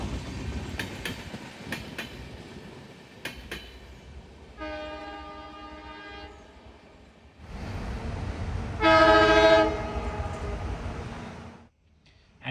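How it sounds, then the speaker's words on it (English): Diesel locomotive at KSR Bengaluru station, running light after detaching from the Tuticorin Express, rumbles past with rail clatter and sounds two clear horn blasts, the second louder and closer, over station ambience. "the loco which called the Tuticorin Express got detached at Kengeri and it is returning back to KSR Bengaluru"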